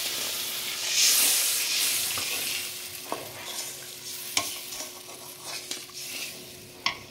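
Coconut milk hits a frying prawn curry masala with a burst of loud hissing that fades into a gentler sizzle, broken by sharp clinks of a spoon against the pan.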